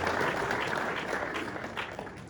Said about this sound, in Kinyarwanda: Mu mukomera amashyi